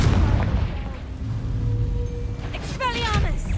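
A Confringo fire spell explodes in the Hogwarts Legacy video game with a deep, rumbling boom that stays loud throughout, amid battle effects, while a voice talks over the game audio.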